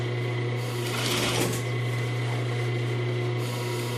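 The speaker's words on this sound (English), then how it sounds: "So I'm going to do a little back stitch." A sewing machine runs a short back stitch through a pillow with piping, a steady close motor hum with a rapid needle chatter that swells briefly, no talking.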